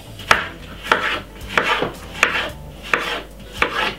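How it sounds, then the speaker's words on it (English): Knife chopping cucumber into small pieces on a board: six sharp, evenly spaced chops roughly every two-thirds of a second, close and distinct, with no talking. "So I'm cutting up my cucumber into some small pieces like this."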